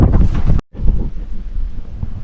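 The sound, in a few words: strong wind outdoors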